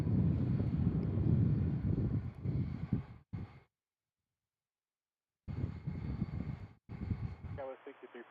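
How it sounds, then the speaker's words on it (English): A Pilatus PC-12 aircraft engine at Tucson International Airport gives a loud, steady broadband roar that cuts out completely for about two seconds, then returns at a similar level, with faint voices mixed in. "Pilatus PC-12 here."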